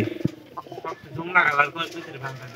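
Pigeons give low, throaty coos and soft calls close by, with a person talking over them.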